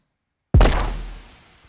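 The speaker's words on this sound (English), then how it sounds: "So say you have some sounds like these gunshots here," A single gunshot sound effect fires in playback inside REAPER, a sharp loud crack after silence that fades into a long booming decay.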